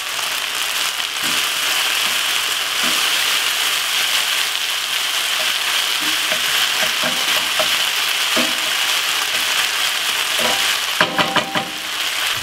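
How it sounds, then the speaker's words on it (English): Minced meat browns in a pan for a bolognese, a loud, continuous sizzle and crackle with occasional scraping stir sounds near the end. "the meat is browning off lovely"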